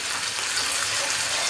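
Water poured from a cup into a pan of tomato sauce while making chicken lasagna, a steady close splashing gush lasting the whole moment with no talk.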